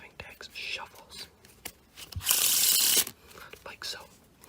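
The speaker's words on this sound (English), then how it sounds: "when you shuffle the deck, it will normally give you an order that has never been shuffled before" A deck of playing cards is shuffled close up in a quiet room, with soft handling and light flicks, then one loud, dense riffle lasting under a second before the quieter handling returns.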